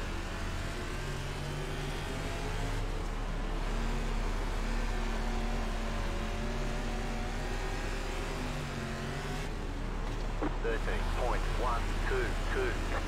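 Limited late model race cars roaring around Kokomo Speedway, a continuous loud engine drone with shifting pitch as cars pass and traffic closes in, under steady talking throughout.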